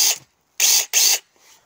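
Cordless handheld mini saw cutting in short bursts, three loud harsh buzzing strokes separated by pauses, then a fainter brief run, close and alone.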